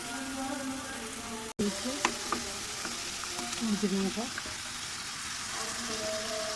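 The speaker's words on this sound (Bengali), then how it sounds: "কষিয়ে নেব" Food sautéing in a pan, a continuous sizzle with stirring and scraping, interrupted by a brief cut, with some tonal background sound over it.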